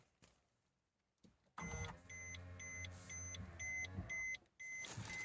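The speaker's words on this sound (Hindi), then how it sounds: "अब इसमें जो ORVM है, देख ऑटोमेटिक ये क्लोज हो गए, और ये अनफोल्ड हो गए" Side mirrors on a 2019 Maruti Suzuki Baleno Zeta 1.2 power-fold with a steady electric motor whir that runs about two seconds, pauses briefly, then starts again. The sound is close and clear, with no talking.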